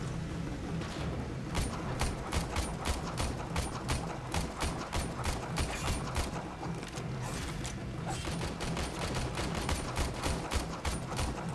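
Automated turrets fire in the video game Warframe during a Venus sabotage mission, a dense, sustained stream of rapid gunfire crackling continuously, loud and close, with mechanical clatter layered in and no talking.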